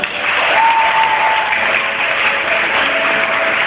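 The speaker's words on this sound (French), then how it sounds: "Si tu crois, acclame le Seigneur." A church congregation applauds and cheers in praise of the Lord, a dense, continuous wall of clapping with shouts rising through it, loud and close throughout.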